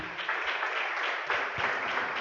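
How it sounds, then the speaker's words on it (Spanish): A congregation at a pastor's sermon applauds, a brief wash of many hands clapping together at moderate volume, steady for about two seconds. "Denle un aplauso a la presencia de Dios."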